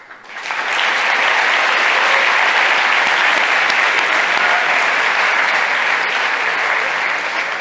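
An audience at a hackathon closing ceremony breaks into loud, sustained applause that swells within the first second and holds steady as a dense wash of clapping.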